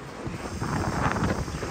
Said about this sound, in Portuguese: eu percebo que tá ventando bastante, né?